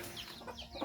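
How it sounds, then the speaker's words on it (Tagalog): A rooster on a provincial backyard farm gives a short, close crow-like call with a few clucks, brief and alone, with no talk over it. "tumilaok si Tandang dahil siya naman ang magiging tatay ng mga sisiw na"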